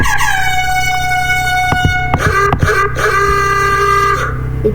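The default car horn in the Roblox game Brookhaven blares loud and steady, held for several seconds with a few brief breaks and clicks partway through.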